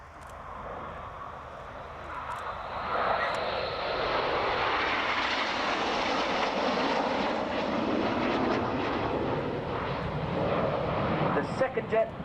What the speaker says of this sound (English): this is Concorde.